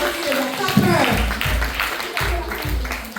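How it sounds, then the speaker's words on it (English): Church congregation claps during a eulogy at a New Testament Church of God, the applause rising under a voice that keeps talking over it. "Give her a clap for that, man."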